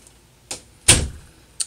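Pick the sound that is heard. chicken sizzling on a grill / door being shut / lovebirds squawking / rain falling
door being shut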